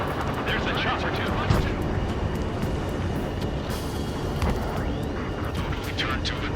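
A helicopter at a rendezvous point in the Ace Combat 7 video game churns out a loud, continuous rotor-and-engine roar that stays dense and steady throughout, with a few brief surges.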